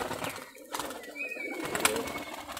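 Rajshahi local Geribaj pigeons, a high-flying breed, coo softly up close. A few low murmuring calls come over a faint background hiss, with no talking.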